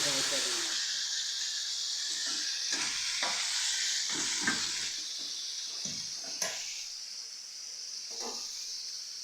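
Flour sizzles steadily in a hot pan while being stirred for a Bengali sukta, with repeated scraping strokes breaking through the constant frying hiss. A voice speaks faintly now and then.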